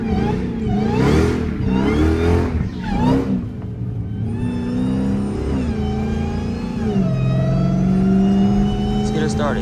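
A 1000hp hoodless Dodge Demon 170 Charger revs hard with rising and falling engine sweeps while trying to spin its tires, loud and close, with a voice talking over it.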